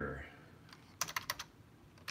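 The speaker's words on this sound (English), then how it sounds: "This is my cordless, very fancy keyboard." Keys click on a cordless computer keyboard in a quick irregular burst of about seven sharp taps, close and fairly quiet, after a brief murmur of talk at the start.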